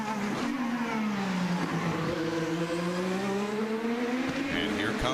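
An IndyCar race car at the Long Beach Grand Prix street race accelerates with a loud, rising and falling engine whine that stays steady throughout, while a commentator talks over it.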